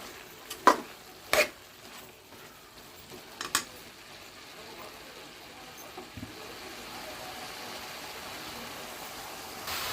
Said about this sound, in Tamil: நல்லா தண்ணி வைக்கிற அளவுக்கு நல்லா கிளறி விட்டுக்கலாம்